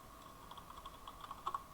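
Soft, quick keystrokes on a computer keyboard, a faint irregular patter of clicks with a few slightly louder taps near the end, close by against a low steady hum.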